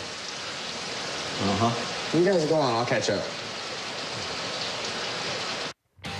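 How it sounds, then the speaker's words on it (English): Steady rain hisses continuously in the background while people talk over it, then the sound cuts out briefly near the end. "Looking at the rain."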